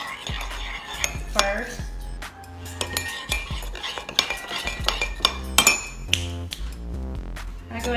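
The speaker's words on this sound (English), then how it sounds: "you have to mix it really well so it's really, really creamy. So I go ahead and mix it" A spoon stirs keto creamer into a cup of coffee, clinking and scraping against the cup in quick repeated strokes, loud and close, with a few sharper clinks toward the end.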